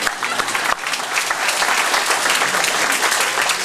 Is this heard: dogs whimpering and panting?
no